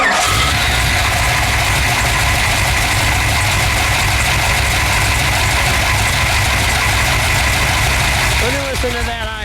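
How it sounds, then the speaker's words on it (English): A 1960 Chevrolet Biscayne with a 496 cubic-inch V8 idles close by, a loud, steady, deep rumble that runs throughout with a brief change near the end. "Let me listen to that idle."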